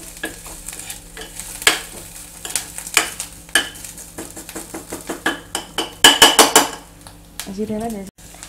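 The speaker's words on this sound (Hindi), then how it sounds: "अदरक और हरी मिर्च को भी हम कुछ सेकंड्स के लिए भूनेंगे।" Ginger and green chili paste frying in a pan over a medium flame, with a soft sizzle under repeated scraping and clinking stirs of a metal spoon against the pan, close and irregular.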